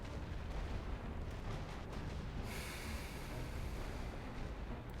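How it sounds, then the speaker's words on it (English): Heavy artillery barrage from a WWI-era game battlefield, a dense continuous rumble of overlapping booms and blasts with no gaps, loud and close, shifting into a brighter roaring wash halfway through. "Tir de barrage sur cette position."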